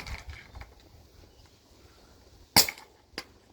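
An airsoft gun fitted with a T8 HPA adapter fires one sharp, loud crack, then a second fainter shot a moment later after a quiet lull.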